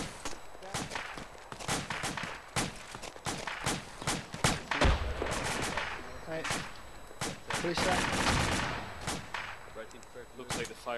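Repeated gunshots aimed at a vehicle crack out in uneven bursts and single reports, some close and sharp, others further off, with voices talking in between.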